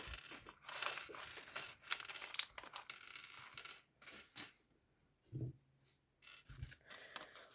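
Plastic bag of small Minecraft building-set parts being torn and pulled open, with crinkly, rustling bursts in the first four seconds, then a few softer handling thumps near the microphone.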